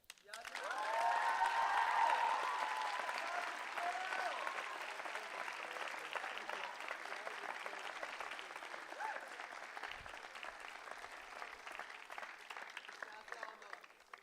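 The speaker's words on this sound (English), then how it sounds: "Can we give Shell another round of applause?" Sustained applause from a large audience at a closing ceremony, swelling quickly to a full roar of clapping and then holding steady with a gradual fade, crowd voices faintly underneath.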